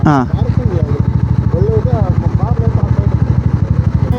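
A motorcycle engine idles nearby at a hilltop temple parking area, with a steady, rapid thumping putter while people talk over it.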